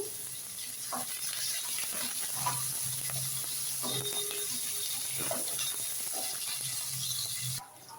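Chopped onions and whole spices sauté in a pan for a Tamil chickpea kuzhambu, a steady close hiss of frying with scattered soft clinks and scrapes of stirring, fading out near the end.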